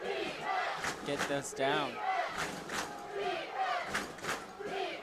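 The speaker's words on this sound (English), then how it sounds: "Here we can hear the East Noble crowd going wild" A high school football crowd from East Noble cheers and roars wildly at a game, a dense, sustained wash of voices with a close announcer talking over it throughout.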